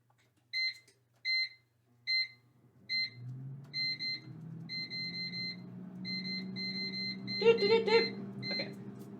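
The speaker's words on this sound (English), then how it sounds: "So I'm going to stick it here in the air fryer for 375 for 14 minutes." An air fryer being set to 375 degrees for 14 minutes gives a series of short, crisp electronic beeps in a button-press rhythm. A low fan hum and kitchen noise rise underneath, with a denser cluster of beeps near the end.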